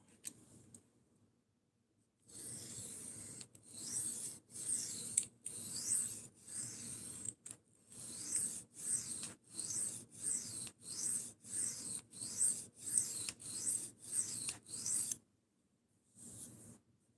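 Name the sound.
Kershaw knife sharpened on a 1,000 grit stone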